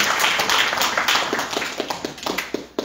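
A church congregation at a Pentecostal service applauds, a dense wash of clapping that thins toward the end into scattered individual claps, close and fairly loud, with no speech over it.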